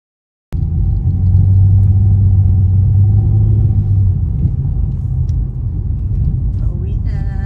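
Mini Cooper car starting to drive, a steady low engine rumble that begins abruptly after a brief silence and continues evenly, heard close from inside the cabin.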